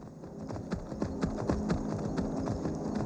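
Horse hooves clip-clop steadily in the Skyrim video game, a moderately quiet, even walking rhythm over a faint ambient hum.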